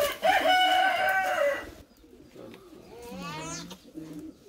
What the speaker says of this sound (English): You probably have more than 100 pigeon here, Mr. Barr.